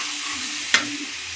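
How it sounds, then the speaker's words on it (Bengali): Ground garlic paste frying in hot oil for a Bengali moong dal with fish head, a steady close sizzle broken by one sharp scrape of a spoon stirring the pan. "রসুনটা একটু ভাজা ভাজা করে"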